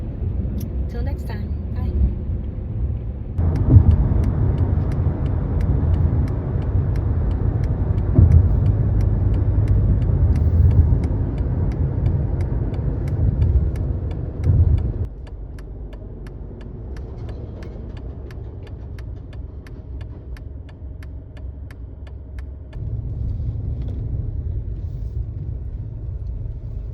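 A car interior while driving, with a steady low engine and road rumble that rises and falls in level as the ride goes on.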